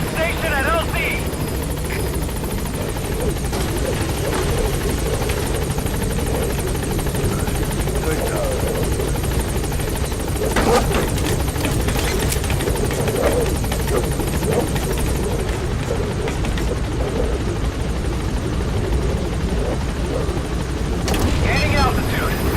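Helicopter arriving at a landing zone in the video game Metal Gear Solid V: The Phantom Pain, a loud, steady rotor roar and engine drone filling the whole clip with little variation.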